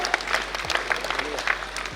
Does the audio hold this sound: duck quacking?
no